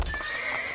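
A horse in Assassin's Creed II gives a short, loud whinny with hoof clip-clops underneath, brief and close.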